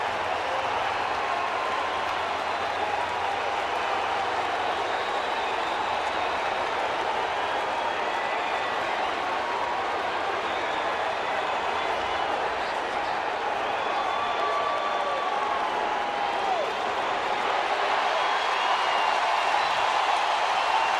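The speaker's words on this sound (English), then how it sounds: "Pretty nice applause for him, too." Baseball stadium crowd applauding and cheering an ovation for Mariners manager Lloyd McClendon, a steady broad roar of clapping and voices sustained for the whole stretch, with faint commentary talk underneath.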